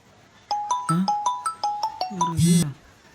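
A mobile phone ringtone repeats a short, bright electronic chime about seven times in an even rhythm, close and loud, and a voice speaks briefly at the end.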